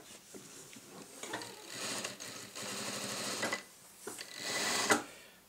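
A JACK JK 9100 lockstitch sewing machine runs in several bursts of rapid, even needle clatter, stopping and starting as the speed changes, close and fairly quiet, with no talking.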